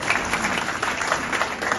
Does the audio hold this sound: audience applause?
yes